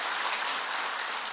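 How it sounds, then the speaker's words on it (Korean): A church congregation applauds a retired pastor starting his first meeting as an itinerant missionary, a brief, soft and even wash of many hands clapping with no distinct individual claps. "여러분 격려의 박수 한번 보내줘 보세요."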